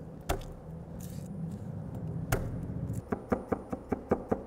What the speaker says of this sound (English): For the garlic, we'll crush these,